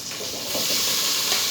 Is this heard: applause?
no